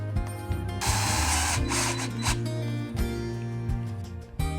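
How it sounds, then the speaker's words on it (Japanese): Hammer drill boring pilot holes into a wall to mount a French cleat, a steady loud close whir with repeated rhythmic pulses and a few brief pauses and restarts. "振動ドリルを使って下穴を開けてフレンチクリートを取り付けています。"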